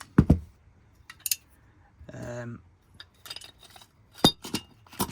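Metal and glass parts clink and click as the bottom is taken off a Koehler miners' flame safety lamp, in sharp close bursts spread between short pauses, with a brief voiced hum in the middle.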